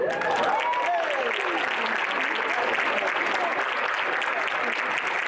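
An audience at an employee recognition brunch applauds and cheers a prize winner, sustained dense clapping throughout with a voice speaking over the first second.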